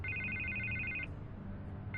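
An electronic telephone trills in Batman: The Telltale Series, a bright repeating ring that holds for about a second, drops out briefly, then starts again over a low, quiet room hum.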